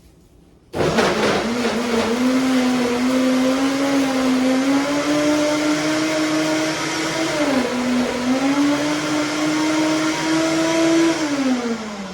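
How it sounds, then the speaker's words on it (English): A Vitamix blender churns a plant-based mango ice cream mixture, a loud, sustained motor whine that starts abruptly and holds steady, its pitch dipping briefly under load before recovering, with no talk over it. "my wife is gonna go over there and gonna blend it"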